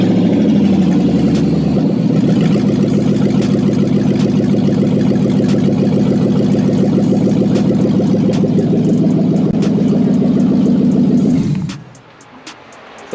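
A Dodge Charger's 5.7 Hemi V8 runs without its exhaust, loud and close, with a harsh, rapid rumble that holds steady for about eleven seconds before cutting off abruptly, leaving faint clicks.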